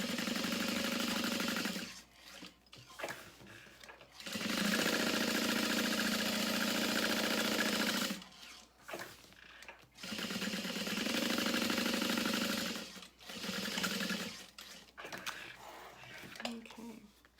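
A sewing machine top stitches a quarter-inch seam beside a zippered pocket on a beauty bag, running in three steady whirring bursts of several seconds each, with short quiet pauses and light handling noise between runs.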